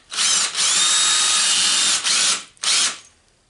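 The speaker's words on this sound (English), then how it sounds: "let's drill a hole." A power drill whirs loudly in three bursts, two long runs and a short final one, each spinning up and cutting off sharply.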